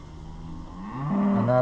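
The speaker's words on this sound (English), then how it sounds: "What is your deal, cow?" A cow moos on a farm beside a tractor repair, a long low rising bellow that swells louder toward the end, close by over faint background hum.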